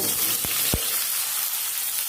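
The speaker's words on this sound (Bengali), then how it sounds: "আলাদা একটা কড়াইয়ে সাদা তেল ঢেলেছি এঁচড়গুলো ভেজে নেব" Young jackfruit frying in white oil in a wok gives a steady, close hiss of sizzling, broken by two brief knocks of stirring, with no voices.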